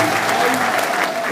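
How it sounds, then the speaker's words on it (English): An audience at a youth gathering in Nasarawa State gives a round of applause, dense steady clapping filling the space with crowd noise mixed in. "Please can we give him a round of applause?"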